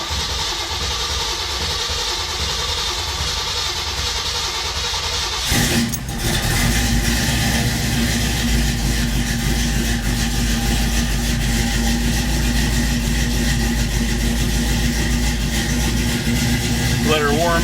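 A carburetted car engine cranks and catches at about six seconds with a loud burst, then settles into a steady, rumbling idle to warm up, close by and continuous for the rest of the time.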